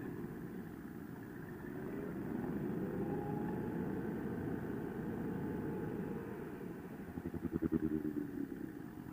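Sport naked motorcycle rolling to a smooth stop, a steady engine drone easing down in pitch with a brief burst of rougher pulsing near the end, no talk.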